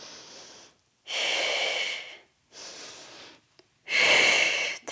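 Heavy breathing during an ab workout, alternating long, loud, rushing inhales and exhales, close to the microphone, with brief silent gaps between them.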